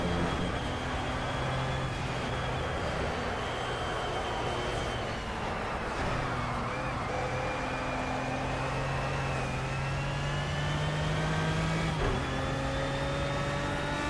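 An Aston Martin race car engine in Project CARS hums steadily with gliding pitch as the revs rise and fall through gear changes, a continuous mid-level drone with no talk.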